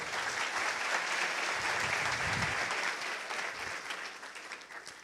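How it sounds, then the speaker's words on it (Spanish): An audience at a Globant tech conference talk in Medellín applauds a speaker, producing a dense, sustained wash of clapping that stays even before easing slightly toward the end. "Un aplauso, por favor."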